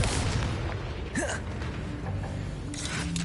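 A Confringo blasting spell explodes in the Hogwarts Legacy video game with a dull boom amid dense combat noise, creaks and brief whooshing sweeps, all loud and continuous.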